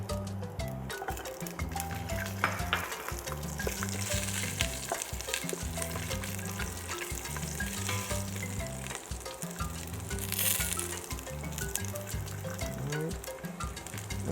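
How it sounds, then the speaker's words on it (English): Garlic cloves frying in mustard oil for a Trinidadian curry goat, making a continuous, moderately loud sizzle with light spattering and occasional clinks of a utensil, with no voices. "Let the garlic caramelize a little bit."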